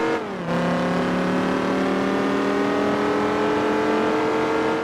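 Dodge Viper engine in Gran Turismo 4 with a Randomizer mod, a loud rich engine tone that drops sharply in pitch at a shift near the start, then climbs slowly and steadily as the car accelerates.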